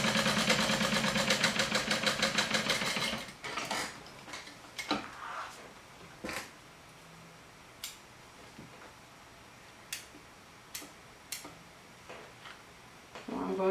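Sewing machine stitching a fabric panel, a rapid close mechanical clatter for about three seconds, followed by scattered soft clicks and taps of handling, with no talk.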